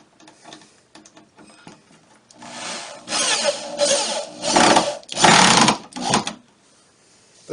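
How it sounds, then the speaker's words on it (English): A power drill drives 1 1/4 inch pocket hole screws into wooden boards for a kitchen pantry cabinet, giving several loud whirring bursts with grinding between them, preceded by quieter handling noises. "I screw them together with 1 1/4 inch pocket hole screws"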